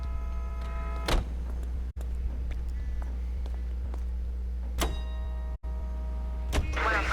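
Steady low engine hum of a car driven in the game L.A. Noire, continuous throughout with a few brief mechanical clicks and bumps, no voices.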